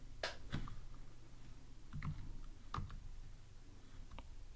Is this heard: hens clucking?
no